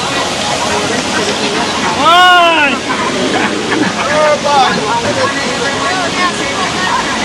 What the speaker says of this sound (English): Guys, this is the river there.